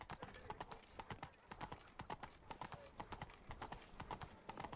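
Roach the horse gallops in Witcher 3 with quick rhythmic hoof clip-clops pounding steadily throughout, moderately close, over faint background ambience.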